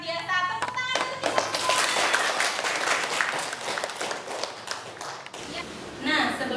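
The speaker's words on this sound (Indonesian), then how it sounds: "Tepuk tangan dulu." Students in a classroom clap their hands together, a dense burst of applause lasting several seconds that fades out, with a teacher's voice heard before and after.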